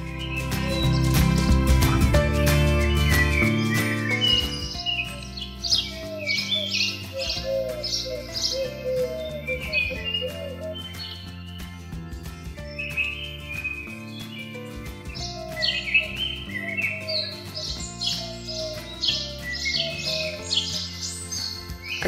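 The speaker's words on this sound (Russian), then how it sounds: "Послушайте звук леса и пение птиц." Birds sing and chirp in forest grounds at a Turkish resort hotel in Kemer, with repeated high warbling phrases over layered tonal background sound that stays moderately loud and continuous, with no speech.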